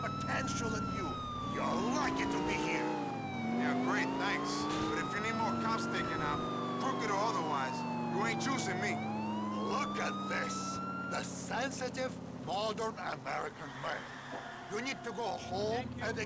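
A police car siren wails in the video game GTA Episodes from Liberty City, rising and falling in long sweeps over engine rumble, with game sounds and a voice talking over it.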